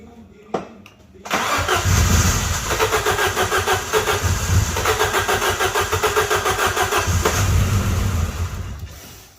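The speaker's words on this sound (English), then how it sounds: "So let's give this thing a crank and see what happens." An Alfa Romeo engine with freshly reset timing cranks briefly with a quick rhythmic churn, then catches and runs loud and close in a steady, pulsing idle before cutting off near the end.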